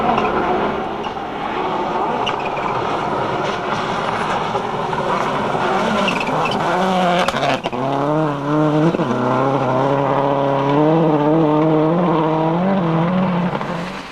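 A Subaru WRC rally car on its opening stage run gives a loud, sustained engine roar that stays steady, then rises and falls through repeated gear changes and revs. It stays close throughout.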